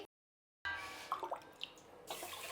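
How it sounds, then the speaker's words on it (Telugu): Water splashes and drips in a small container, with a few light sloshing bursts as lentils and rice are rinsed by hand, close and fairly quiet. "ముందుగా పప్పుని బియ్యాన్ని కడుక్కుందామండి."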